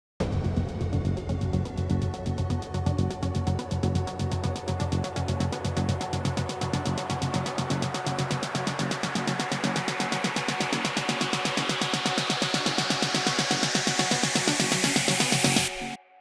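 An electronic build-up in melodic techno style pulses with synth and a rapid arpeggiator, its filter cutoff opening over time so the pattern grows brighter and more intense, rising to a peak before stopping sharply.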